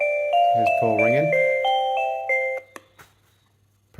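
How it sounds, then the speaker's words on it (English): A DoorBird smart gate intercom plays a short electronic doorbell chime sequence of clear, bright tones, then fades, with a brief voice-like sound mixed in partway through. "what type of chime you hear when someone calls"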